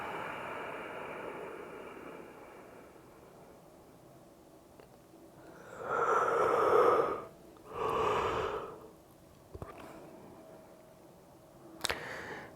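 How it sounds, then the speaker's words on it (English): Two long breaths during a yoga session, slow and airy, close to the mic, the first more drawn out than the second, each rising and then fading away against a quiet room. "Long breath out."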